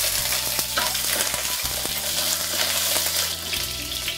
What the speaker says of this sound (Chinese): 任起锅加油，